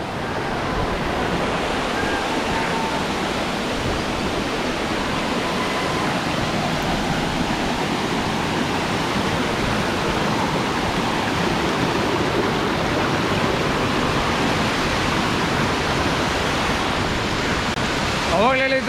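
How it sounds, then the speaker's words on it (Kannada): Hidlumane Falls, the main waterfall on the Kodachadri trek in Mookambika Wildlife Sanctuary, gives a dense, steady roar of falling water that stays loud and unbroken throughout, heard from close by. "ಇದೇ ದೊಡ್ಡ ಫಾಲ್ಸ್, ಮೈನ್ ಫಾಲ್ಸ್, ಇಡ್ಲುಮನೆ ಫಾಲ್ಸ್."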